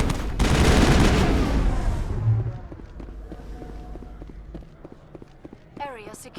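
Assault rifle fire in the Mass Effect video game, a loud dense burst of rapid shots for about two seconds inside a building, then fading to scattered faint clatter and a brief synthetic chirp at the end.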